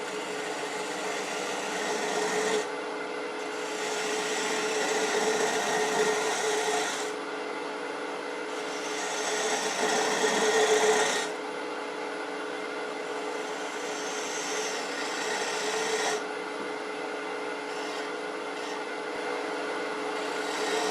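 A bowl with a bark rim spins on a wood lathe while a parallel tenon is cut into it. The cutting makes a continuous close rasping scrape that swells and eases over about twenty seconds.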